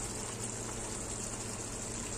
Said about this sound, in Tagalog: O, kumukulo na siya.